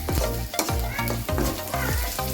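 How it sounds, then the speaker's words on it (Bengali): Raw onion frying in hot oil with cardamom, cinnamon, cloves and black pepper, a steady close sizzle broken by several sharp scrapes and clanks of a spoon stirring the pan. "গরম তেলে এলাচ দারচিনি লং গোলমরিচ ভেজে নিয়ে কাঁচা পেঁয়াজ"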